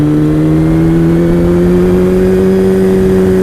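Kawasaki ZX-12R motorcycle running through an Akrapovic slip-on exhaust, a loud sustained engine drone whose pitch climbs slowly as it revs and accelerates, with wind rush underneath.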